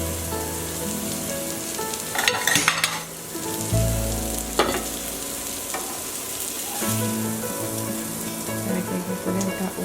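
Garlic and chili paste frying for a rohu fish dish, a steady close sizzle with stirring scrapes and brief louder bursts, no voices.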